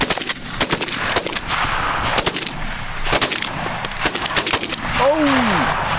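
Shotguns firing at geese during an early-season goose hunt in New York, a rapid volley of loud, close blasts over wind, ending with a goose honking.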